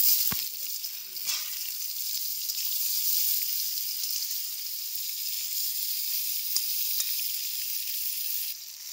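Chillies and whole spices frying in a little oil for a sweet-sour raw mango pickle, a steady close sizzle running throughout, with a few soft clicks of stirring and no talk.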